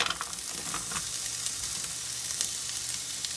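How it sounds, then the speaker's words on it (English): Onions sizzling in a hot non-stick skillet, a steady bright crackle with a few louder pops, close and continuous with no voices. "Okay, so I've let the pan get hot. So the first thing I'm gonna add is the onions."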